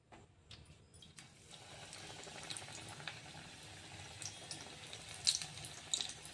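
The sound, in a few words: vada pav batter-dipped vadas frying in hot oil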